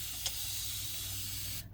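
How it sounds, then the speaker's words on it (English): A spray bottle mists plain water onto leather, a single sustained close hiss lasting over a second and then cutting off, with no talk. "now I'm going to use a spray bottle with just some water"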